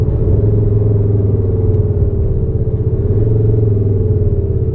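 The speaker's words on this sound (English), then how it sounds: "First sound we've got is the G63, big old V8 German Mercedes. Just do a down change." A Mercedes G63 with a big German V8 and an aftermarket exhaust idles and burbles through a downshift, a loud, close, steady low rumble with a pulsing rhythmic throb and no talking.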